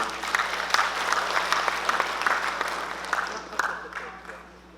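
An audience applauds a tax expert introduced at a residents' meeting on local redevelopment, with individual claps standing out at moderate distance before the clapping thins and fades over the final second.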